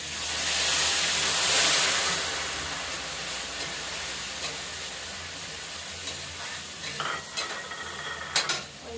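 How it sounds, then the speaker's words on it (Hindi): Tempering spices hiss and sizzle in hot oil for a carrot and radish dish, a loud burst at first that settles into a steady crackle, with a few clinks of a spoon. "तड़का"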